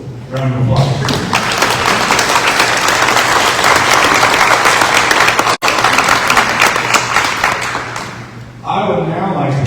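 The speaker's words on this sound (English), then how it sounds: "Round of applause." A banquet crowd at a chamber of commerce awards event breaks into loud, full applause that swells and holds for several seconds, stops abruptly, and gives way to a voice speaking.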